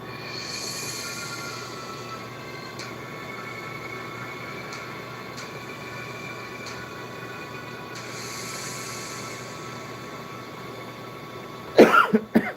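A few short, sharp coughs burst out near the end after a long stretch of steady, rumbling background noise.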